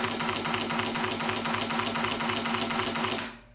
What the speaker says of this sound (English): I just wanted to go over the shutter sound of these cameras real quick